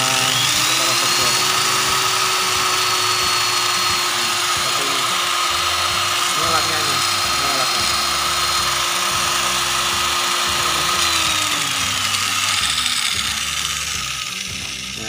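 An AC electric grinder motor, its speed set by a dimmer, whines steadily at high speed, its pitch sliding up and easing back down as the speed changes, with mechanical rattling underneath.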